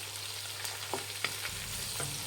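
Onions and fresh green peas frying in a pan for cabbage rice, a steady soft sizzle with a few light scrapes of a spoon stirring, close by and without speech.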